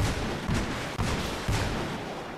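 Artillery in a tank video game firing flares into the air from behind a bush and rocks, heard as a dense, loud run of repeated blasts and crackling bursts with no speech.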